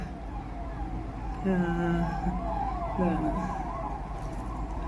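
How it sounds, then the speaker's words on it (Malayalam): A wailing ambulance siren rises and falls in the distance while a person talks nearby over steady traffic rumble. "ആംബുലൻസ് പോകുന്ന സൗണ്ട് കേൾക്കുന്നു"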